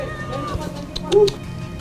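A kitten rescued from a house roof during a flood gives a short, thin meow, close by, over a low background murmur of voices.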